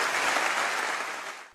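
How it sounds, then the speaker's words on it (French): An audience claps warmly for honored guests at a local gathering in Soustons, a brief dense burst of applause that fades out after about a second and a half. "On les applaudit, merci beaucoup"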